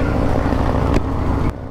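A Harley-Davidson Breakout 117 motorcycle with its 117 engine gives a steady, loud, low rumble that holds evenly and then drops off slightly near the end, with no talking.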